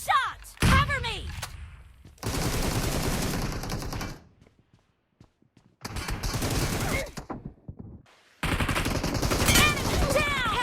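Automatic rifle fire from an M762 in the shooter game BGMI, loud rapid bursts separated by short pauses, mixed with game effects and shouted voice lines.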